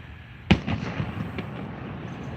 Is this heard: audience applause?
no